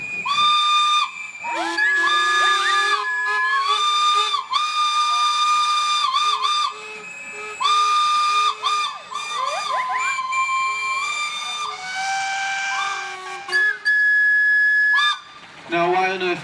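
Shrill whistles from steam engines at an outdoor steam gathering sound again and again, some steady and some sliding in pitch, with loud hissing steam around them and a quieter gap before a final blast.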